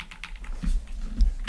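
Typing on a Redragon Artemis K719 Pro anime-themed mechanical keyboard, a quick run of close, crisp key clicks with a few heavier thocks, played alone without talk.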